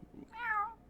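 A person imitates a cat with a single drawn-out, tonal "meow", close and clear, preceded by a brief soft sound.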